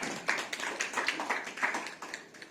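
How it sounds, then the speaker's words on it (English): A conference audience gives a brief round of applause for a welcomed guest speaker, dense overlapping claps at moderate distance, steady and uninterrupted for a couple of seconds. "can we have a round of applause,"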